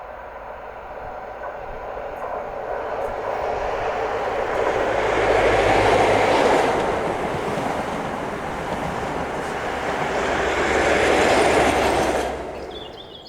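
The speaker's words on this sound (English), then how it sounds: "ScotRail HST formed of 43138 and 43003 as they slow for the book stop at Gleneagles" A ScotRail HST led by power cars 43138 and 43003 rumbles past as it slows for a stop at Gleneagles station in Scotland, a loud, continuous roar of engines and wheels that swells, dips, swells again and then fades.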